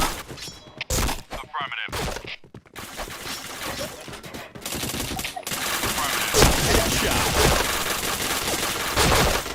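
Bursts of rapid gunfire from an online shooter game crackle loudly and densely, firing in clustered volleys that build into near-continuous shooting, with brief pauses and game effects between.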